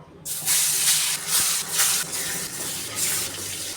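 Rupchanda fish pieces fry in hot oil, making a loud, steady hiss that surges in waves over a few seconds, close up with no talk.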